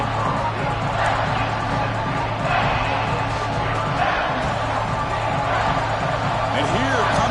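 Dense crowd roar fills a college football stadium at Georgia Tech during a red zone defensive stand in a CFB26 game, holding steady throughout with a commentator talking over it.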